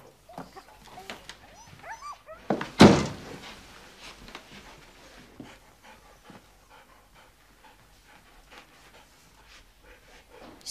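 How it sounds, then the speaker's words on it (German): A dog whimpers, yelps and pants at a bedroom door in a 1970s TV crime drama scene, with high whines early on and a loud thud or door bang midway, then quieter panting and scuffling. "Würden Sie mir erlauben, dass ich dem Hund die Tür dann mal öffne?"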